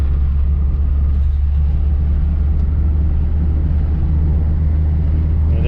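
A 1982 Toyota Tercel with a 5-speed manual drives along, its engine and road noise a loud, constant low rumble with no clear breaks from gear changes.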